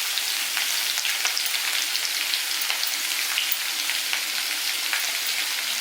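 Ground paste of coconut, coriander, cumin and dried chilli fries in a pan with cucumber, giving a steady close hiss with a fine crackling texture and no talk over it.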